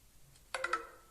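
A Sony Xperia M5 smartphone plays its startup chime once, a bright rising tone with a few quick ringing notes over a quiet background.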